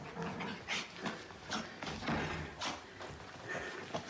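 An excited pet puppy whimpers and lets out short yips and barks in uneven bursts at close range. Soft thumps of movement come between the cries.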